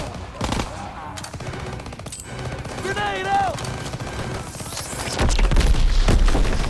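Automatic rifle bursts and explosive booms from a Call of Duty WW2 street battle, loud and close, layered with a brief whistling tone and distant rumbling as the firefight continues without spoken words.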